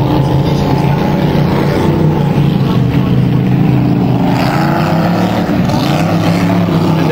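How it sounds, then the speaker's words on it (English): Race boats running a course on a lake at an antique and classic boat show in Gravenhurst, a constant loud engine drone that rises and falls slightly as the boats circuit in the distance. "that racket you hear in the distance, viewers, is race boat in action"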